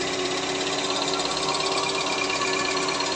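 A car engine with a worn connecting rod bearing runs steadily, giving a dense, continuous mechanical clatter at an even level throughout, with no voices.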